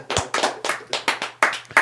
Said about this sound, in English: We'll give a round of applause for Mase